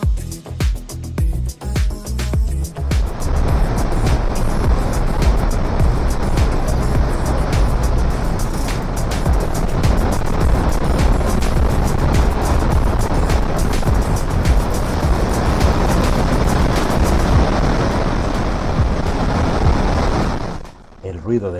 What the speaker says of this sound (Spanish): El ruido del agua es atronador.